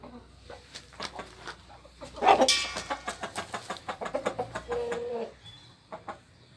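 Aseel hen on a farm, giving a run of rapid, fairly close clucks and squawks, a loud burst at the start followed by a steady series of shorter calls with no talking.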